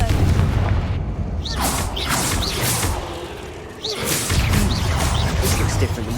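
Blasting spells explode in Hogwarts Legacy as repeated heavy booms with rushing whooshes and bright magical shimmer, rolling in two loud waves with a short lull between, and a voice briefly present.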